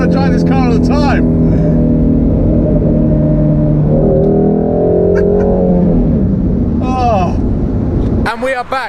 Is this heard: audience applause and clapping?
no